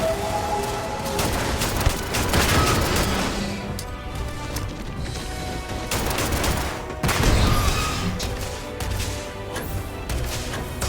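Bursts of rapid gunfire crackle and boom in the video game Starfield, with repeated volleys and sharp impacts across the whole stretch and brief lulls between.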